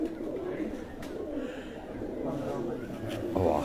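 Breeder pigeons in a loft setup cooing in low, soft, repeated murmurs close by, with someone talking over them throughout.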